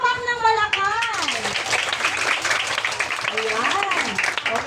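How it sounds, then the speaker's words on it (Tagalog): A room of children claps loudly and steadily at a celebration, with excited young voices calling out over the applause before it settles. "Pumalakpak ng malakas."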